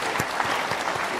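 An audience claps in a brief, loud, dense burst of steady applause at a spiritual talk, with no voices over it.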